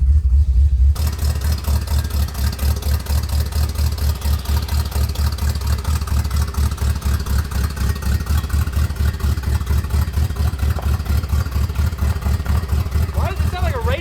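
A V8 Buick LeSabre engine, not yet warmed up, runs steadily with a strong, pulsing low rumble, close and loud throughout, with faint background noise over it.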